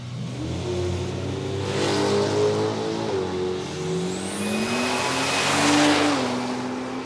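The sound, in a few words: drag race car run at Palmyra Raceway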